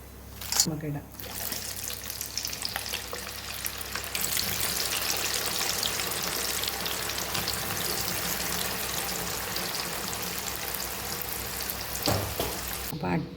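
Jackfruit pieces fry in hot oil with a steady, dense sizzle that runs continuously after a brief clatter at the start, fairly close and uninterrupted by talk.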